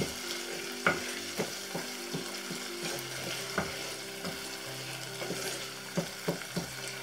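Pepper paste sautés in oil in a pan for a quinoa and spinach dish, giving a continuous close crackling sizzle with regular stirring taps and scrapes from a utensil. No one talks.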